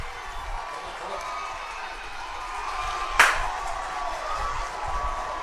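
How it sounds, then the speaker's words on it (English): High school baseball game crowd at James Clemens cheering in the background, a low steady murmur under commentary with one sharp clap or crack midway. "You can hear the crowd cheering in the background as James Clemens able to get on the board."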